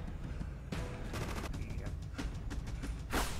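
Gunfire in the Rogue Warrior video game, shots fired through a wall, heard as a burst of rapid cracks and sharp reports over a steady game background, with players talking quietly underneath.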